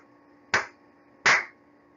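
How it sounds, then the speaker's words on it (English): Two sharp hand claps about three-quarters of a second apart, close and clear in a quiet room, with no talking. "Clap your hands."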